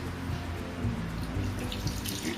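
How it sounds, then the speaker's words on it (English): Water poured onto hot curdled milk while making Bengali rasagollas, a steady running splash and trickle heard close up and alone, without talk. "Now add some water."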